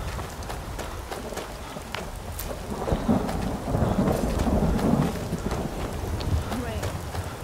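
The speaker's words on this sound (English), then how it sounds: "Rain. Typical. I hate the rain." Steady rain and rolling thunder from a thunderstorm in the video game Skyrim, a constant hiss with a low rumble swelling in the middle, while a voice talks over it.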